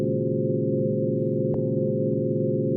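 A synthesizer chord built from pure sine waves holds steady and bright, a sustained electronic tone with a brief click partway through, playing alone without any voices.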